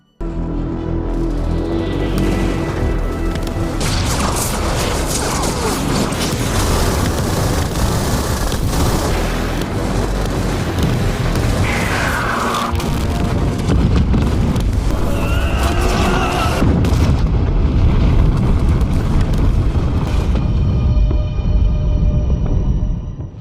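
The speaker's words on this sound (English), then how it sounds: "dozens of missiles suddenly fly overhead and ultimately destroy their base" Dozens of missiles streak overhead and blast apart a base, a loud, continuous roar of booms and rumbling explosions that barely lets up across the whole stretch.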